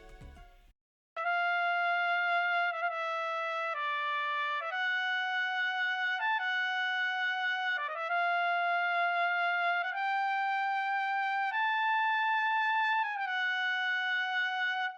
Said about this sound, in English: So the next instrument that I added was the trumpet.